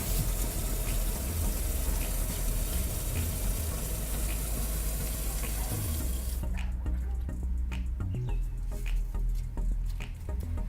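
Steady rushing of water pouring through a hose into a 60-litre water tank, broad and continuous, then abruptly thinning to lighter trickling and dripping taps for the last few seconds.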